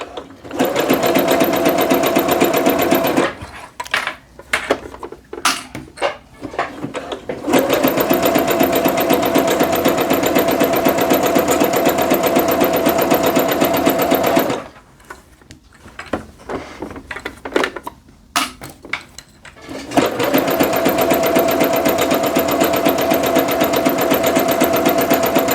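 A home sewing machine stitches the seams of joggers in loud, steady bursts, running for several seconds, pausing with small handling clicks and shuffles, then starting again, with no talking.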